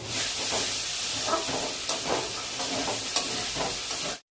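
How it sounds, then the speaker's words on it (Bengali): Spice masala sizzles loudly in a pan as two spoonfuls of sour yogurt are added for a large fish-head curry, a dense continuous hiss and spatter with stirring scrapes, close and without talk. "2 চামচ মতন আমি টক দই দিলাম।"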